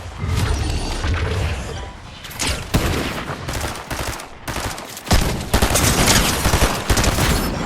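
Dense gunfire in the Fortnite battle royale video game, with rapid bursts of automatic shots and sharp cracks packed together, loud and continuous through the whole stretch with no voices over it.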